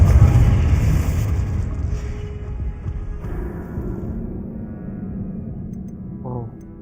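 A Confringo spell in Hogwarts Legacy erupts with a loud, low booming explosion at the start, then rumbles and fades away over several seconds, followed by a brief faint tone near the end.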